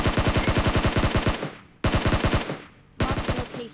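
Rapid automatic gunfire in a video game, loud and close in three bursts of rattling shots, each cut off abruptly, with no talk.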